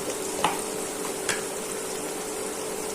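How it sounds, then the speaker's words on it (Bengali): Spices going into fried onions in a pan, a steady loud sizzle of hot oil with two sharp clinks and scrapes of a stirring spoon early on, no talking. "পেঁয়াজটা ভাজা হয়ে গেছে, এখন একে একে মশলাগুলো দিয়ে দিচ্ছি।"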